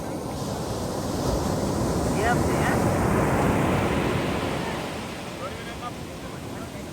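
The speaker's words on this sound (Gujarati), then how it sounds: "મોજા તમે જુઓ ખાલી એક વખત મોજા જોવો" Ocean waves wash in steadily with wind noise across the microphone, a broad rushing surge that swells and eases, with a brief greeting spoken over it.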